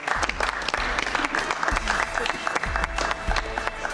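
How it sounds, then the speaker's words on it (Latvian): A studio audience at a Latvian television show finale claps for the winners, dense continuous applause with heavy low thumps and some stray voices mixed in, loud and close throughout. "Vēlreiz aplausu uzvarētājiem."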